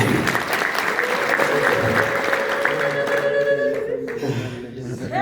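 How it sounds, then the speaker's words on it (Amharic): A church congregation claps for God in loud, sustained applause that fades slightly toward the end, with a held musical tone and crowd voices mixed in. "አጨብጭቡ ለእግዚአብሔር።"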